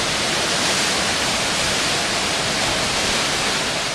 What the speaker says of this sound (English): It's kind of amazing how all that water funnels through a tiny little gap there.